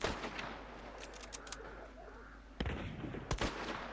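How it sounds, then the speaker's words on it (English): Gunfire from the video game Hunt: Showdown: two sharp, fairly distant shots cracking out a second apart near the end, following fainter scattered pops over a noisy ambient background. "That's a gunshot."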